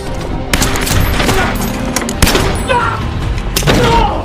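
Film shootout between a sniper and mafia gang members, with loud bursts of rapid gunfire, sharp individual shots and booming impacts crowding together over a dense, busy backdrop.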